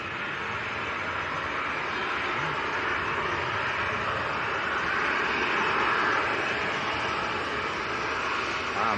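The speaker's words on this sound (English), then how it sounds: "This next inbound is a EasyJet from Belfast," An easyJet Airbus A320 from Belfast arrives at Manchester Airport on a windy day, a steady broad engine roar holding loud and constant throughout with wind noise mixed in.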